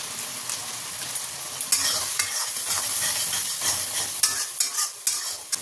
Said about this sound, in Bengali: আবার ভালো করে মশলাটাকে কষিয়ে নেব